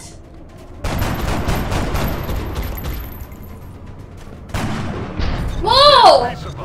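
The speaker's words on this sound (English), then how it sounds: "It just exploded and hit us." An explosion hits the squad in the XCOM game: a loud, broadband roar of blasts and debris rolls on for several seconds, then a second burst. A startled voice exclaims over it.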